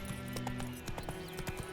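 A horse in The Witcher 3 trots in a brief run of clip-clop hoofbeats, close and even, with a sustained tonal music bed beneath.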